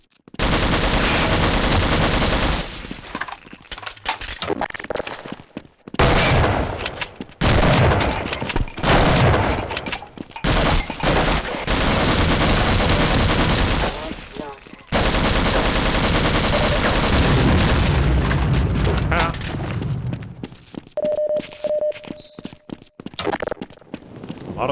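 Gunfire in the game Half-Life: MMod during a warehouse firefight, with loud, dense bursts of shots and booms that keep going with short breaks, then thin out toward the end.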